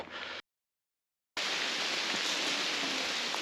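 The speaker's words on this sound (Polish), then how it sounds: "Nie miało specjalnie padać, więc jest zlewa taka, że szlak płynie." Heavy downpour of rain pours onto a mountain trail in the Beskid Mały, a dense steady hiss that cuts out briefly and then returns loud and close.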